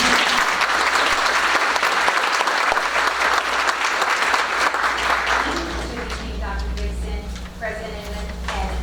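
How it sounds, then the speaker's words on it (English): Audience at a board meeting breaks into a loud, dense round of applause that fills the room for several seconds, then thins out into scattered clapping as a few voices and room noise come through. "we're going to give you both a round of applause before you ever even start"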